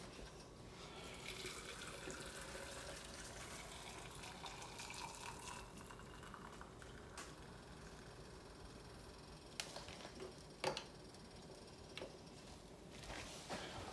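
Water from a faucet quietly filling canning jars of pole beans up to the headspace line, a faint steady trickle with a few small clinks.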